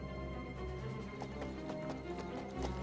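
A horse gallops in the video game Kingdom Come Deliverance 2, its hooves a steady, rapid clip-clop over sustained tonal game music.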